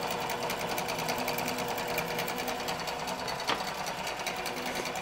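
A QBOT V3 quilting machine stitches a quilt edge to edge with a fast, steady needle rhythm that runs continuously at close range, with one brief sharp click partway through.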